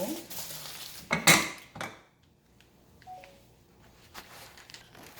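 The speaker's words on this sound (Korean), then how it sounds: "도마 한번 칼 한번 씻고" Kitchen clatter as a cutting board and knife are washed while making seopsanjeok, Korean grilled minced beef skewers: a loud burst of dishes and metal knocking near the start, then quieter scattered clinks and rinsing.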